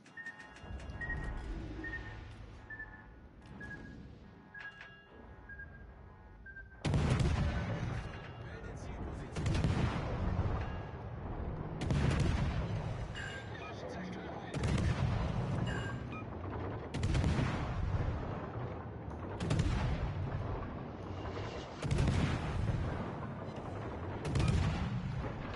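Secondary guns on a destroyer in a naval warship game fire in repeated loud, heavy bursts every few seconds, each crack rolling into a booming tail, with game voice callouts and background noise in between.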